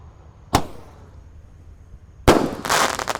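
An 8-shot, 1-inch Roman candle firework fires two sharp, loud shots about two seconds apart outdoors. The second shot is followed by a brief crackling rush.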